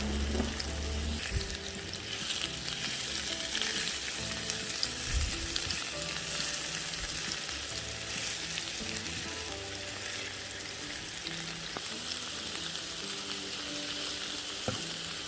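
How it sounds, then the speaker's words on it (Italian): Broccoli sautéing in extra-virgin olive oil with halved garlic cloves in a pan, a steady, close hissing sizzle that runs for many seconds with occasional stirring clicks and no voices. "E facciamoli soffriggere per 3-4 minuti, finché si saranno insaporiti bene."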